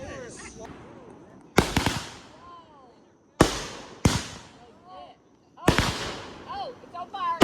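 Fireworks at a backyard firework show burst in several loud, sharp explosions spaced a second or two apart, each trailing crackle and hiss, with people chatting and reacting between the blasts.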